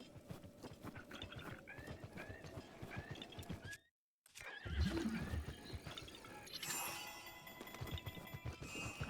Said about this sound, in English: Oh god, it was a guy on a horse.